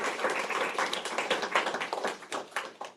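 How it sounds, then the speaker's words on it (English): Workshop participants at an astronomy coding workshop clap for themselves, a loose scattering of individual hand claps from a modest group, fairly close and steady for a few seconds. "So give yourselves a round of applause."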